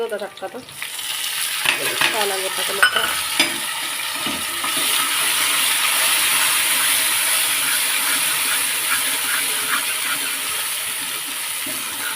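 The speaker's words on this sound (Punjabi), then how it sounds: "ਅੱਜ ਤੜਕਾ ਲਾ ਲੈਂਦੇ ਹਾਂ ਥੋੜੇ ਜਿਹਾ ਸਾਗ ਨੂੰ ਅੱਧਾ ਤੜਕਾ ਪਾ ਲਾਵਾਂਗੇ ਤੇਲ 'ਚ" Saag greens hit hot oil for tempering with a loud crackle and hiss, settling into a steady sizzle after a few clattering stirs.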